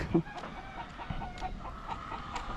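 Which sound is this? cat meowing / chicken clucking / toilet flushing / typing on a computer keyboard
chicken clucking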